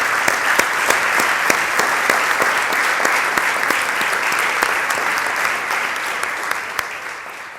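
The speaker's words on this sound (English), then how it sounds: "can we give our panelists a round of applause?" A crowd claps steadily throughout, sharp individual claps standing out over a dense, sustained wash of applause.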